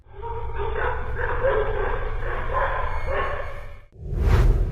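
Dogs bark and yap repeatedly in a loud, continuous volley for several seconds, then a brief gap before a burst of rushing noise and more barking.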